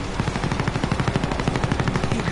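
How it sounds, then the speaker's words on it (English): Steady automatic gunfire from Call of Duty: Warzone rattles loud and close in an even, rapid rhythm, with a helicopter nearby, and no speech over it. "people are shooting at me"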